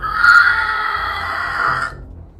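A voice imitates a screeching frog croak, a loud, sustained shrill shriek held for about two seconds before cutting off abruptly.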